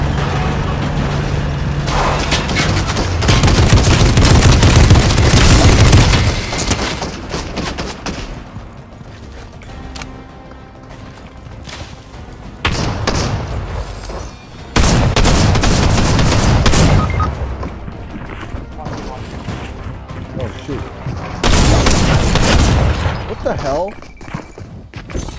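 Bursts of loud gunfire and explosions from Fortnite arrive in several separated waves, dense booming volleys alternating with quieter stretches, with speech heard over the action.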